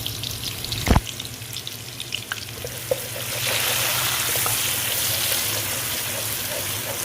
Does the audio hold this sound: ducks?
no